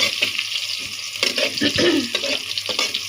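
Onion and garlic frying in a pan for a chicken and taro curry, a steady close hiss and crackle with a few scraping stirs.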